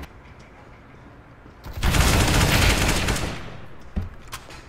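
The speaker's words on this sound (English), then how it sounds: "He's got a shotgun" Burst of rapid gunfire from a CS:GO match, including a shotgun, rising to a loud sustained volley for about two seconds, then fading into scattered single shots.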